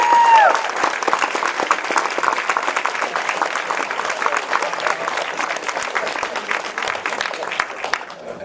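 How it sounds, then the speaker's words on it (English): Sustained audience applause at a film Q&A, dense steady clapping that carries at an even level for about eight seconds before easing slightly at the end. "Give one more round of applause for coming."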